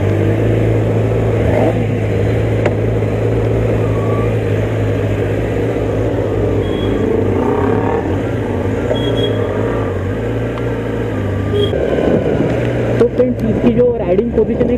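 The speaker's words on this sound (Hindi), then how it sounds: "ये हो गई हमारी बाइक स्टार्ट और यह है इसका एग्जॉस्ट नोट।" A 2020 Kawasaki ZX10R 1000cc superbike idles with a steady, deep exhaust note that shifts as the throttle is blipped, then rises in sharper revs near the end, with someone speaking over it in a rainy setting.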